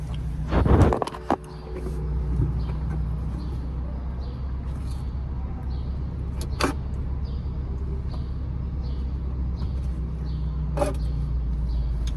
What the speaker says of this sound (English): I just started the car.